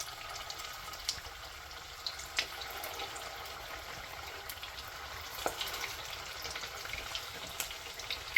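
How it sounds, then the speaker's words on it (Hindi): Shami kebabs frying in a pan on a low flame, a steady soft sizzle with faint crackles and small pops, close and alone with no talking. "अब हम दूसरे कबाब डाल देते हैं, एक एक करके डाल देंगे।"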